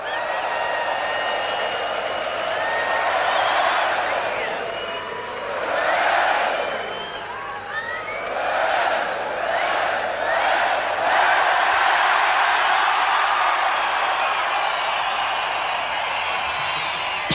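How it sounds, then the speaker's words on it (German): A big festival crowd at an open-air rock concert applauds, whistles and cheers on cue, a broad sustained roar that swells and dips in waves with scattered whoops, far-reaching and continuous. "Auf die Plätze, fertig. Applaus!"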